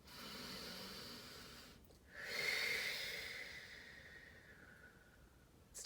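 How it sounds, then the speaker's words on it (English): A single slow, deep breath drawn in, soft and close, rising into a prolonged airy hiss that gradually fades out against faint background noise. "take a deep breath in"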